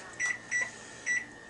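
A microwave oven heats a cheesecake mix with a steady hum, while three short high beeps ring out at even intervals over the droning background.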